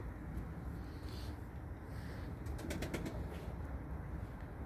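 Smoky crested young pigeons in flight outdoors, with faint wing flaps and soft cooing over steady background noise, including a quick burst of flapping partway through.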